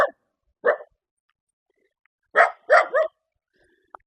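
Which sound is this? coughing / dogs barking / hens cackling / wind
dogs barking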